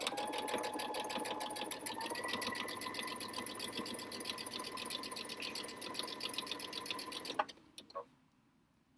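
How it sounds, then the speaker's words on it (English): A sewing machine stitches down the middle of a chenille pillow made with Chenille-It tape, a fast even rattling hum that runs steadily for about seven seconds, then stops with a few soft clicks and near silence. "so we're just going to stitch down the middle"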